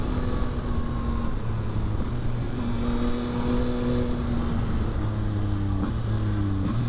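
A 2022 Yamaha XSR900 motorcycle engine hums steadily while riding, with wind rush and shifting engine tones rising and falling across a continuous drone.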